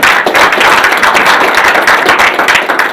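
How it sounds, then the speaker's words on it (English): A panel discussion audience on political upheaval in South Africa applauds with loud, dense, continuous clapping that sounds close and sustained throughout. "please join me in giving our distinguished panelists a round of applause"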